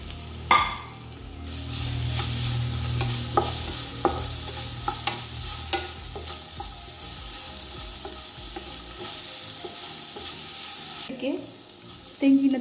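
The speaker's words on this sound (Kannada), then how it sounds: "ಪ್ಯಾನ್ ತೆಗೆದುಕೊಂಡು 1 ಸ್ಪೂನ್ ಘೀ ಹಾಕಿ ನಂತರ ಅದಕ್ಕೆ ಕಟ್ ಮಾಡಿಕೊಂಡಿರುವ ಬನಾನ ಹಾಕಿ" Chopped banana fries in a spoonful of ghee in a pan, a steady close sizzle broken by sharp clicks and scrapes of a spoon stirring, with a brief rustle near the end.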